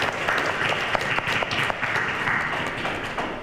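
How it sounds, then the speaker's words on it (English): A lunchtime lecture audience at the Penticton Museum gives a short burst of loud, dense applause that fills the room without pause. "15 seconds in, I got a round of applause"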